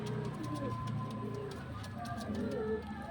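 Domestic pigeons in a loft coo softly in low, repeated throaty calls, several birds overlapping at close range against quiet background noise.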